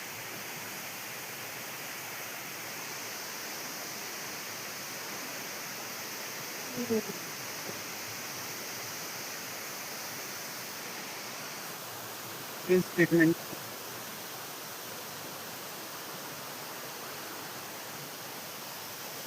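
Swollen river water rushes through a Meghalaya jungle in a steady, broadband roar that fills the whole stretch, with a voice breaking in briefly near the middle.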